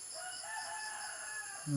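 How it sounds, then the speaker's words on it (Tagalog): A rooster crows once in a long, drawn-out call over faint background hiss, with a brief low thump at the very end. "Tugtugaok sa manok."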